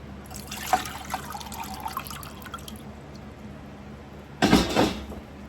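Water pours into a pot on the stove for a simple syrup, with light splashes and drips early on, then a louder burst of running, splashing water near the end; no talking.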